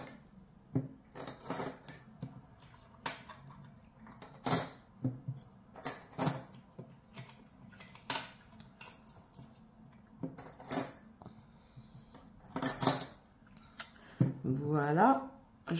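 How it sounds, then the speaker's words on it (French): Coins are put away by hand, with repeated metallic clinks and jingles as they are gathered, sorted and dropped into place, close and moderately loud, while someone speaks quietly in between. "alors, je vais ranger les pièces"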